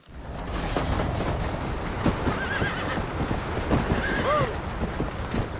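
A horse in the video game Red Dead Redemption whinnies twice over steady hoofbeats and rumbling movement, with the neighs rising briefly above a dense, continuous background.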